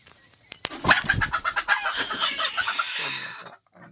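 Free-range village hens cluck busily in a coop setup for laying eggs, a dense, close chorus of overlapping clucks with a couple of sharp knocks at the start.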